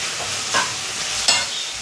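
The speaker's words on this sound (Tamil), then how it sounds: "நல்லா ட்ரையாகிற வரைக்கும் வதக்கிக்கலாம் ஃப்ரெண்ட்ஸ்." Food sautéed and stirred in a pan until dry, a steady close sizzle with a few brief scraping stirs, and no voices.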